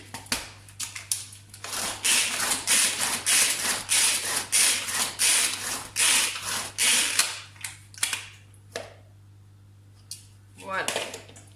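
Cheese with a little flour added being chopped in a kitchen chopper: a busy run of choppy, rattling mechanical whirring in short bursts for about eight seconds, then a pause and a brief final burst.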